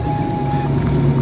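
A steady rotary engine drone with a sustained high tone from a car passing at a cars and coffee meet, loud and close, over rushing wind noise, with no voices.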